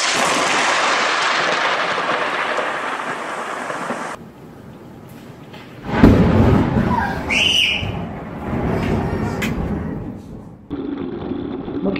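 A lightning strike and thunder unfold in uneven stretches: a sustained bright crackle, a quieter lull, then a sudden heavy low boom followed by rumbling, scattered sharp tones and renewed noise, loud and close.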